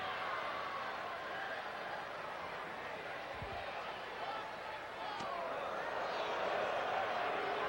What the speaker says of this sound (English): The crowd is oohing